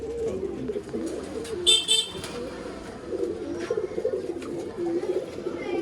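Pigeons cooing in a loft among birds for sale, low rolling coos repeating through the clip, with a brief sharp higher bird call near the middle and faint background noise.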